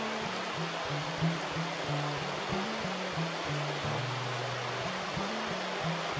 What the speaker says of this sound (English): a heavy rain shower